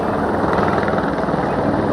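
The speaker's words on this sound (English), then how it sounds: "Helicopters overhead, absolutely deafening, down over the bridge" Helicopters fly low over a ski marathon course near a bridge at the Jizerska Padesatka race, their loud, dense rotor roar and thumping filling every moment close overhead.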